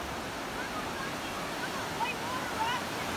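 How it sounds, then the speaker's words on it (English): Rushing water in Johnston Canyon, Banff, makes a steady, dense roar that holds even and unbroken from start to finish, with a few faint chirps barely rising above it. "You can hear the water."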